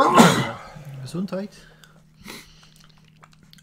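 One sudden, close sneeze bursts out at the start, followed by a few quiet words spoken indoors.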